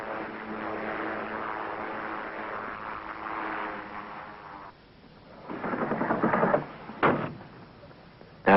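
A Pilatus PC-6 Porter utility aircraft makes a muffled, droning engine rumble that dips, then swells louder in pulsing bursts, ending with a sharp thump.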